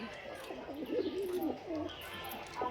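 Pigeons coo nearby in a soft, throaty, repeated rhythm over low background noise.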